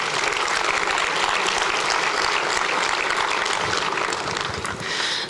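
A conference audience claps steadily, dense and sustained applause holding at an even level for several seconds before easing slightly at the close.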